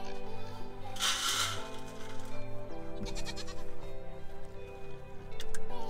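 Goats on a small farm bleating loudly and close, several overlapping wavering calls in quick succession with shuffling movement between them.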